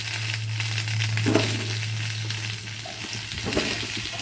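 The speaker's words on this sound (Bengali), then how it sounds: "পটলগুলোও দিয়ে দেব একসঙ্গে ভাজা হয়ে যাবে" Potatoes and pointed gourd sizzling and crackling in hot oil, steady and close, with a few scraping stirs of a spatula along the pan.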